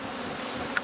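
Honeybees buzzing around a queen cage at a newly installed hive, a steady close hum of many insects with a few louder passes near the microphone.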